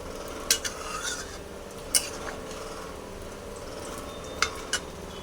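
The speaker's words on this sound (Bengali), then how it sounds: "গরম মশলাকেও নাড়াচাড়ি করে নেব।" A spoon stirring garam masala into a simmering curry in a pan, with a low steady sizzle and a few sharp clinks of metal against the pan.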